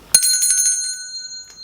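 A bell struck once as a segment jingle for a current-affairs programme, a sharp bright ring like a bicycle bell that decays with a long, pure shimmering tail, close and alone.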